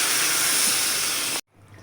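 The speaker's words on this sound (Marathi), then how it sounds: "वांग्याच्या भाजीमध्ये 1 ग्लास पाणी टाकू." A glass of water goes into a brinjal curry in a hot pan, raising a loud, steady steamy hiss that cuts off abruptly, then quiet background.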